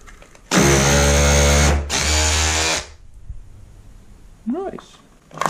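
A power drill bores into an aerated concrete (BCA) wall in two loud, whining bursts of about a second each, followed by quieter handling noises and someone talking briefly.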